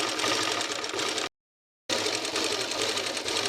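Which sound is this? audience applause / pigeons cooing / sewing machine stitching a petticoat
sewing machine stitching a petticoat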